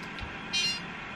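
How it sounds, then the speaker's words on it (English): A Samsung Galaxy SmartTag gives one short, faint electronic beep while pairing with a phone, a brief tone rising out of quiet room noise. "Oh, it's got a little beep to it."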